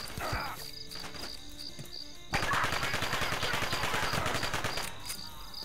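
Gunfire in the video game American Fugitive, a rapid automatic burst that starts abruptly and rattles steadily for about three seconds, loud and close, preceded by scattered quieter shots and a faint insect-like background hum.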